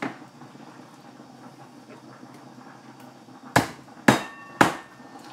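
The flat end of a meat mallet pounds chicken for schnitzel in a home kitchen, three sharp, evenly spaced thuds near the end after quiet background rustling.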